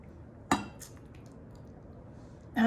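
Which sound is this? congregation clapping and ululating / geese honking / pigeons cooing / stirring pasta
stirring pasta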